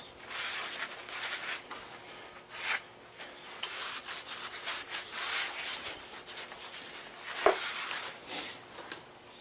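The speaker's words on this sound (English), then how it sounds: "I'm just going to hit the back of this rotor with a little brake clean" Brake cleaner sprayed from an aerosol can onto the back of a brake rotor during a Chevy Blazer wheel bearing job, heard as close, loud bursts of hissing spray in irregular spurts with brief gaps.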